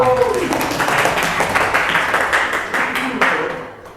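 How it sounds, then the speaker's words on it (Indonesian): Dense, close clapping from a classroom audience of students at a teaching practice session, steady for about four seconds before tapering off at the end, with a voice briefly audible at the start. "Tepuk tangan dulu untuk kalian semua"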